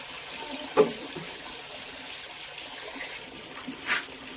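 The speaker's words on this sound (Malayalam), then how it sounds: "വെള്ളം നിറഞ്ഞുകൊണ്ടിരിക്കുകയാണ്." Water pours into a bucket for cleaning a fish tank, making a soft, steady hiss with a couple of faint knocks, heard alone.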